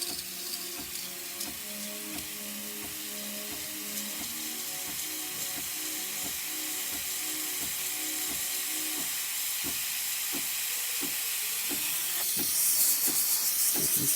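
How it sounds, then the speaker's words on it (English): A Breville Duo Plus espresso machine's steam wand hisses steadily after a full tune-up that fixed a steaming fault, with a rhythmic pump pulse ticking underneath that fades as the hiss builds louder toward the end. "See, this is the steam."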